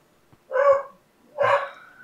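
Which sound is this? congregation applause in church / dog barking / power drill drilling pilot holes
dog barking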